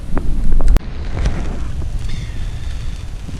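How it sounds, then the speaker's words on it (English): Gusting wind buffets the microphone beside the River Trent during heavy rain while fishing for barbel, a loud rough rush with a sharp knock early on, then a steady windy roar with no talk. "The wind's getting up and it's absolutely raining, well, peeing it down."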